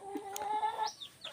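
Native-cross mestizo chickens clucking close by, a few short rising calls and clucks in quick succession over a brief stretch, no talk.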